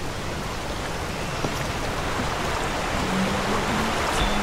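Steady rain pattering on surfaces in the video game Call of Juarez Gunslinger, a dense continuous hiss with faint scattered drops and a low hum near the end.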